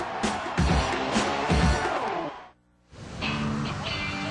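A fired-up Southern California crowd at the AVP Crocs Tour Huntington Beach Open men's beach volleyball final roars and cheers loudly, dropping briefly to near silence midway before the crowd noise swells back.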